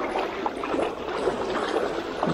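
Fast-flowing river water rushing steadily past a wading angler fishing for winter grayling, a close, continuous broadband wash with no pauses.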